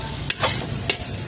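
Bicol Express being stirred in a frying pan, with steady sizzling and two sharp scraping strokes of a utensil, close and without talk.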